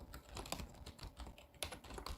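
Quiet, close typing on a computer keyboard, a quick irregular run of soft key clicks with brief pauses and no talking.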